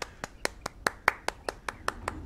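Steady hand clapping, about eleven sharp claps at an even pace, close and fairly quiet with no voices.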